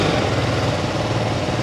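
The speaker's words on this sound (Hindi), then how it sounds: "सबसे पहले मोटरसाइकिल का एग्जॉस्ट नोट सुना देते हैं" A BMW 310 R motorcycle engine runs steadily nearby, a continuous low, rough exhaust drone at an even level with no speech.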